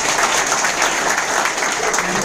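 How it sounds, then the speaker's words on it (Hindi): Loud, dense applause from a meeting audience in a hotel hall, continuous rapid clapping sustained evenly throughout with no gaps. "एक बार साहब के लिए जोरदार ताली"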